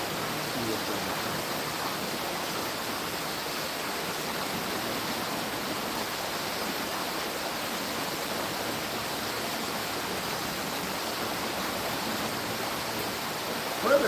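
A trout creek flows in a continuous, steady rush of water, close and even throughout, with no voices over it.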